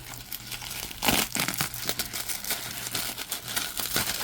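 A baseball card pack's plastic wrapper crinkles and rustles as it is opened, with close, sharp bursts of crackling and quieter handling in between.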